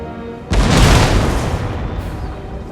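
Cannon battery firing in the Empire Total War video game, one sudden heavy boom that rolls on as a long rumbling roar and slowly fades.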